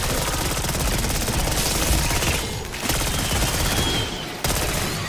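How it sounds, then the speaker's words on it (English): A PPSh submachine gun in a zombies video game fires in long, continuous rapid bursts, loud and close, with only brief breaks between streams of shots. "That's what I love about this PPSh. They did it right with the fire rate."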